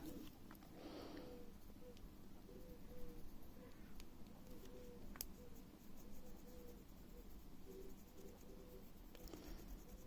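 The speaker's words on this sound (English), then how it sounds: "I'm just going to go back with my black pencil and" A black pencil colours on paper with soft, faint, repeated scratchy strokes, while a pigeon or dove coos rhythmically in the background.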